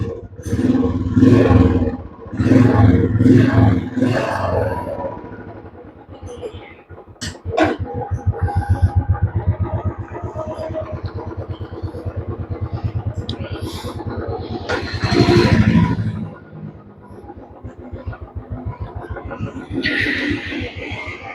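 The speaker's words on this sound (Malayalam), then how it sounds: "വണ്ടിയുടെ ശബ്ദം നോക്കുക." A Royal Enfield Bullet Standard with a kick-start variant runs close by, its steady, loud thumping engine beat pulsing throughout, with rougher revving at the start and end.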